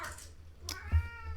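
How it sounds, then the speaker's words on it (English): A house cat meows once, loud and close, wanting to be let out of a room, a short plaintive call standing alone over a quiet background. "My cat wants out of the room."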